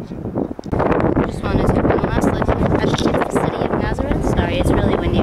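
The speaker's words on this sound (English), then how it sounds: "It's really windy here, guys." Strong gusts batter the microphone at a windy clifftop, a loud continuous roaring buffet, with a person talking throughout.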